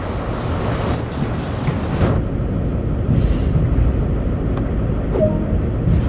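A train in Train Sim World rumbles steadily with a loud, continuous low drone and rolling wheel noise, easing off slightly midway as it runs on toward a stop.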